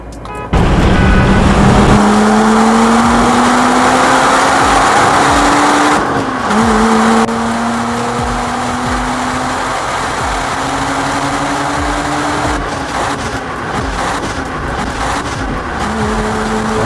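A Mazda RX8 rotary car accelerating hard from a 40 mph rolling start, the engine rising in pitch through several gears with brief dips at each shift, loud and close throughout.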